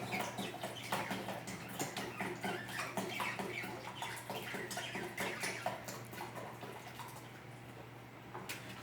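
Water poured out of a bottle in a gas-transformation experiment, a quick string of splashing, gurgling pulses running steadily throughout, alone with no voices.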